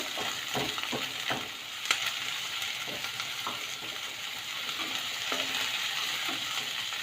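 Garlic, onion and ginger frying in a pan hiss in a steady, bright sizzle, broken by repeated scraping strokes and clinks of a spoon against the pan, close and moderately loud, with no speech.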